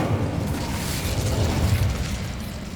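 An Incendio fire spell cast in Hogwarts Legacy, a loud, steady roaring whoosh of flame that holds for nearly three seconds with no speech.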